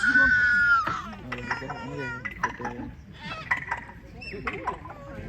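A parrot at a lion safari park imitates a person gulping a cold glass of water, a run of bird-voiced swallowing and gasping calls, close and fairly loud, with a brief human-like vocal note at the start.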